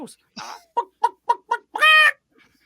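A man imitating a chicken with his voice, producing a string of short clucks followed by a longer squawking call, close and clear, with no other talk.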